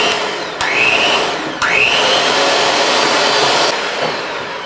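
Electric mixer whirring steadily as it blends sugar into cream cheese, its motor tone shifting at two points as the speed changes, loud and close with no talking.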